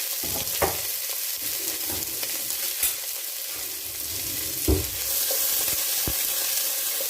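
Raw plantain and vegetables frying in a pan, a continuous hissing sizzle with occasional clanks and scrapes as the spoon stirs, close and fairly loud.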